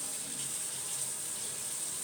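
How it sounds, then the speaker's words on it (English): Hot water runs steadily from a tap for brewing a new batch, making a close, continuous splashing hiss that never pauses. "We'll want to get some nice hot water going."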